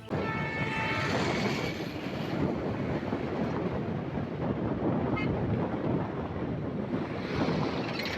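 A train crosses an old bridge at slow speed, a continuous roar and rumble of wheels and wagons heard from nearby, heavily mixed with wind buffeting the microphone, with no talking.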